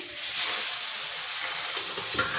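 Pabda fish sizzles in hot oil in a pan with a loud, steady hiss that crackles throughout, close up and alone, with no voices.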